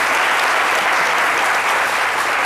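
Steady, loud audience applause, a dense wash of many hands clapping without pause.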